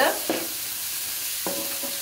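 Vegetables for egg noodles sauté in a pan with a soft, continuous sizzle, broken by two or three brief scraping stirs of a utensil against the metal.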